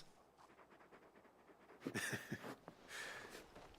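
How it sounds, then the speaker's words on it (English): Torgal, a very big dog in Final Fantasy XVI, pants softly in short breathy bursts with a faint whimper, quiet and close. "You're just a big puppy, aren't you? A very big puppy."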